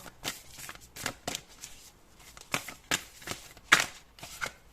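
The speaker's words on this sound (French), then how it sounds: "on prend deux autres cartes et on passe à la canalisation" Tarot cards being drawn and shuffled close up, a run of quick papery riffles and slaps in uneven bursts, with no voices.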